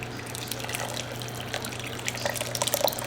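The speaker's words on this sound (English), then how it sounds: "Then we're just gonna pour that white sauce" White sauce poured over cooked pasta noodles, a close, wet trickling and dripping with small glugs and splats building toward the end over a faint steady hum.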